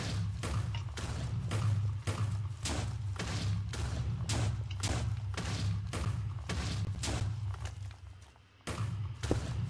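Schematicannon in Minecraft Create firing on gunpowder, a steady run of repeated thumping blasts at an even rhythm over a constant low hum, continuing for several seconds with a brief dip near the end.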